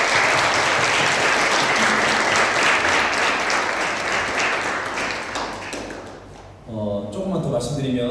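A large church congregation applauds loudly and steadily during a Sunday service, the clapping gradually fading out before a voice begins speaking.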